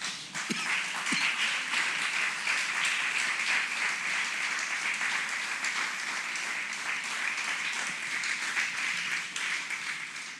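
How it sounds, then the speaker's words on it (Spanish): A church congregation applauding in worship, a loud, dense, steady wash of many hands clapping that carries on evenly for about ten seconds with no talk over it. "Dele una ofrenda de palmas al Señor."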